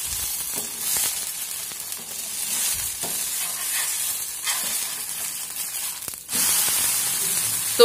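Food frying in a pan makes a loud, continuous hissing sizzle up close, with occasional soft scrapes and a brief surge near the end.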